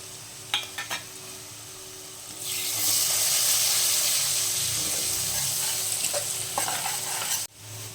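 Turmeric and green garlic fry in hot oil while being stirred for a restaurant-style chickpea curry, a steady sizzle that swells loudly after a couple of seconds with light utensil scrapes and taps throughout, no talking.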